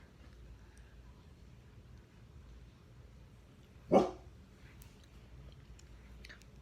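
A single sharp dog bark rings out once in a quiet room, fairly near, with faint background hiss before and after.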